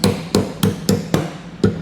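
About seven quick, steady hammer blows knock a metal tab flush on the bumper beam of a 2019 Subaru Outback Wagon while a Class III trailer hitch is being fitted. Each strike rings close and crisp, with no talking.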